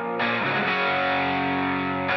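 Electric bass recorded through a Cascade Fathead 2 ribbon microphone with EQ and compression applied plays a thick, sustained, slightly gritty line that runs steadily throughout, close and loud.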